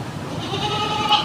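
A male goat at a livestock market gives a short, nasal bleat, fairly close, with a faint rise near the end and no talking over it.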